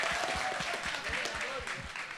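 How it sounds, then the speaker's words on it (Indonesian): Audience clapping for a street dancer at a hip hop event in Jayapura, Papua, a moderate crowd applauding with some individual claps standing out, a voice faintly underneath. "Tepuk tangan buat Douglas."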